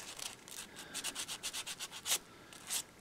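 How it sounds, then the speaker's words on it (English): Fine-grit sandpaper rubs over a carved wooden Santa in quick, rhythmic strokes, a soft close scratching that repeats about a dozen times. "this helps to kind of burnish the wood if you're using a grit that's a little finer"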